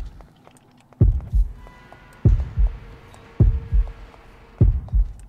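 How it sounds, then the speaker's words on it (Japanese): Heartbeat warning in the horror game Horrorfield: four loud, deep double thumps, lub-dub pairs spaced about a second apart, over a low electronic hum with faint high ticks. "ただ心音がねドクンドクンなってるのが気になるところですね。"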